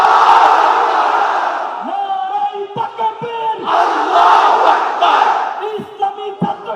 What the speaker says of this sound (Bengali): আপনারা স্লোগান দেবেন আমার সাথে।